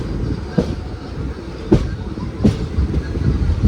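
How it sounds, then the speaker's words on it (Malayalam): A railway inspection car rolls past near Kazhakuttam station, heard from a passenger train, with a steady low rumble broken by a few sharp wheel-joint clacks spaced irregularly. "ഇത് മറ്റേ ഇൻസ്പെക്ഷൻ കാറാ"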